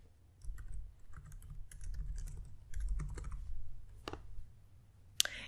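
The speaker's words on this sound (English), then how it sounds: "I'm going to enter an email right here." Someone types an email address on a computer keyboard with soft, irregular key clicks in short bursts and a few sharper taps. The setting is quiet, with no talking.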